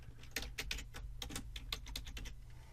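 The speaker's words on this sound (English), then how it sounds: "So I'm just going to now type the password" A password being typed on a computer keyboard: a quick irregular run of close, quiet key clicks over a low steady hum, no speech.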